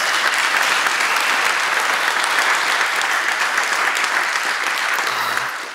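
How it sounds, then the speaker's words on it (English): A crowd of hackathon participants and guests at an award ceremony applauds, dense sustained clapping that fills the room and fades slightly at the end. "Let's give it applause."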